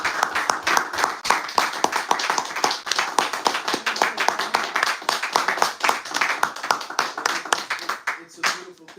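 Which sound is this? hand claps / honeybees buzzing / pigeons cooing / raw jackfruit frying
hand claps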